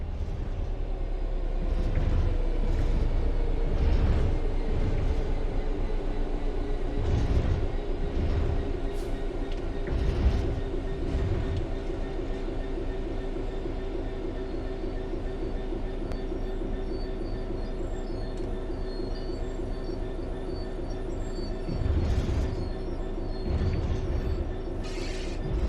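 A train in Train Sim World 3 coasts on level ground along the rails with a low continuous rumble and faint periodic clacks, smooth and unhurried, with no voices.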